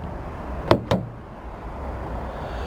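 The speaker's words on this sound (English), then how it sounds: "To lock, all you have to do is tap the marked patches on each of the front door handles." Two quick mechanical clunks a fraction of a second apart as a 2015 Toyota RAV4's doors lock via keyless entry, close by, followed by a quiet low background hum.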